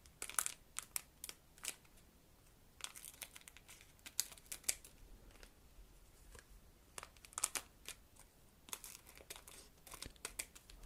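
Pokémon booster packs from a 25th anniversary Celebrations collection box are torn open by hand, giving quiet, close crinkling and tearing bursts of foil wrapper in irregular clusters with short pauses between.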